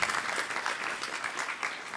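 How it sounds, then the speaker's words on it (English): An audience at a crypto summit pitch session claps steadily for a speaker, a full, even patter of many hands heard at moderate volume from start to finish. "Clap your hands, Cheers, please."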